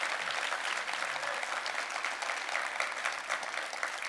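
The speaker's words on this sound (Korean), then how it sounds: "여러분 박수 부탁드립니다" An audience at a public town hall Q&A with the mayor of Incheon claps in sustained, dense applause, loud and continuous with a fairly even level from start to finish and no clear voices over it.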